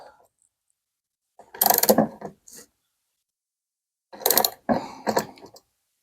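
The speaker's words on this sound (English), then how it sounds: "our 14 millimeter ratchet here. We can tighten this up." A 14 mm ratchet tightening a nut on a solar panel system battery fuse clicks in two short bursts of rapid ratcheting, close and fairly loud, separated by a quiet pause.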